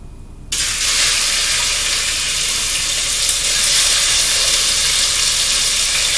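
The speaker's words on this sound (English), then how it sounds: "I've got the olive oil going. And to that, we're going to go ahead, and the sizzle's about to start here" Beef browns in olive oil, sizzling loudly and steadily after a brief quieter moment, a strong crackling fry in a hot pan, with no voices.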